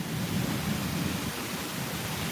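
Steady, hissing rain pours during a summer thunderstorm in Tulsa, Oklahoma, heard from a front porch as a dense, even broadband wash with no voices.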